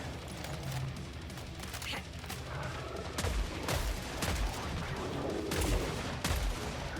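Rifle gunfire from the Sharpshooter's weapon in the video game Killing Floor 3: several loud, sharp shots at uneven intervals, booming over a constant background of game noise and combat din.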